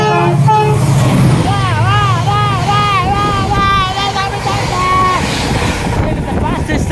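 A train passes close by at speed, making a loud, continuous rumble and rush with wavering tonal whines riding over it for the whole stretch.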